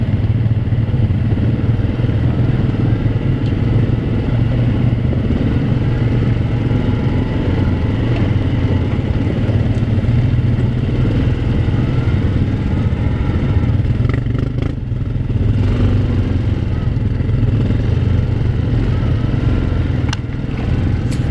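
A Grizzly ATV rides along a trail with its engine giving a loud, steady low rumble and faint clatter that carries continuously throughout.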